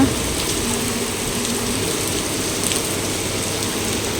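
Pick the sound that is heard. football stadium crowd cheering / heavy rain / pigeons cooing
heavy rain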